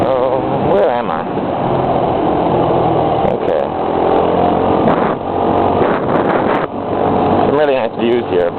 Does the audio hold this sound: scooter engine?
yes